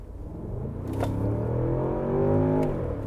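Outside exhaust note of a 2023 Range Rover Sport through its quad exhaust, muffled rather than loud, rising in two revving swells over about three seconds, heard alone with no talk.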